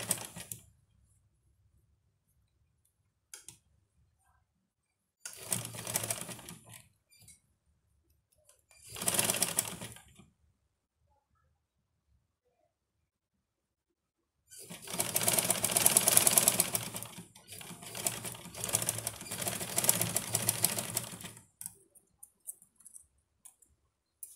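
A sewing machine stitches fabric for overall garments in several separate runs: short bursts early, then a longer stretch of rapid whirring, close and alone with silent gaps between.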